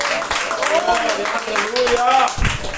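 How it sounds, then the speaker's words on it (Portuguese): A church congregation claps during a sermon, scattered applause running under a voice that calls out praise and shouts over the clapping throughout. "Aplauda o nome do Senhor"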